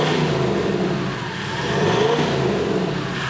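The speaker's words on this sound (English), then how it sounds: "when you give it, the thing sounds mental. You can hear the turbo spooling" An FJ49 engine revs hard with a turbo spooling up, a loud, continuous close-up roar that swells and eases through the clip, alone with no talk.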